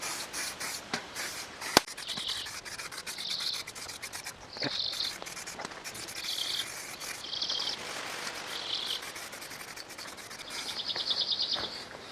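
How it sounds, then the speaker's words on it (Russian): Aerosol paint can sprayed in repeated short hissing bursts, with faint birdsong and outdoor rustling underneath, fairly close and moderately loud. "Вот взял баллончик с краской."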